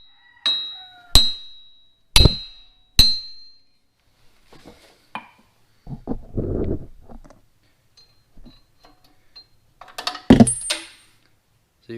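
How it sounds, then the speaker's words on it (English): Four sharp metallic hammer strikes ring out against a car wheel stud, evenly spaced, followed by softer scraping and clinking, then another cluster of knocks. "you're going to need a hammer, and you just want to go up to the bad stud"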